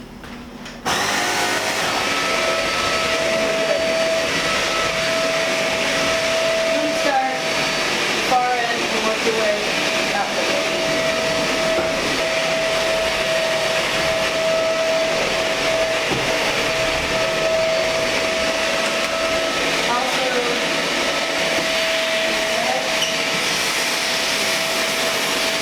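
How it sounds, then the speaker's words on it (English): A vacuum cleaner runs continuously while cleaning a beach suite in St. Pete Beach, a loud, steady motor whine with a constant tonal hum that barely changes as it works, close by and alone. "Next step is vacuum."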